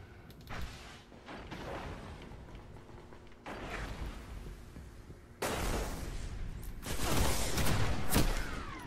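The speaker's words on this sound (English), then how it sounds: "He got those two shots off real quick with that red death" Gunshots in a video game, with sharp loud cracks in separate bursts that grow denser and louder toward the end, each shot followed by a clattering mechanical tail.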